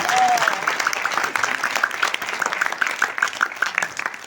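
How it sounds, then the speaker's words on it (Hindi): Audience applause during a motivational speech at an event in Ludhiana, Punjab: steady, dense clapping from a crowd sustained throughout, fairly loud and close, with no talking over it. "तालियां बजानी है तो थोड़ी ठीक से बजाओ यार"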